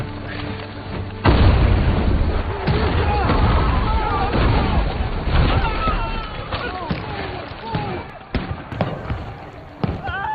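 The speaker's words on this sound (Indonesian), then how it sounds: "langsung disambut oleh tembakan sekaligus lemparan bom" Gunfire and bomb blasts on a battlefield, with booming explosions and sharp pops in an irregular, continuous barrage, loud and close, with voices heard among the blasts.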